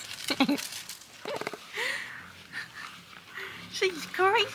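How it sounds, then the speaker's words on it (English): A dog whimpers and pants in short bursts during farm chores with horses, with high whiny cries near the start and end, and someone talks over it. "She's a crazy dog."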